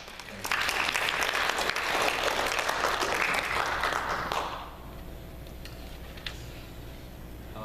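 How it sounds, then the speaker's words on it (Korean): A church congregation at a year-end Sunday service claps for its choir, a brisk burst of many hands that builds quickly and then tapers off after a few seconds, leaving quiet room tone with a few stray taps. "우리 임마누엘 성가대 한번 격려 박수 하십시오"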